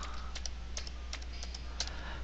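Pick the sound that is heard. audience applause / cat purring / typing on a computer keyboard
typing on a computer keyboard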